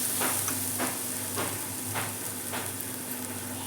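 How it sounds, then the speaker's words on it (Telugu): Half a kilo of mutton sizzles and fries in a pan for gongura mutton, a steady crackling hiss with periodic stirring scrapes, close and fairly loud with no talk. "ఇంకా మనం మటన్ వేసేద్దాం."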